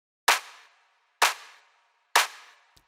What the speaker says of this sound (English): So for the breakdown, I added some claps that would add some rhythm.